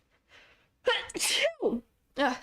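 A single loud, close sneeze with a sharp breathy burst, preceded by a faint intake of breath and followed by a short voiced exhale, then a brief spoken voice.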